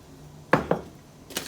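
A whisk knocking against a bowl while mixing, a few sharp clinks and taps in a short uneven cluster, close and fairly loud against a quiet background.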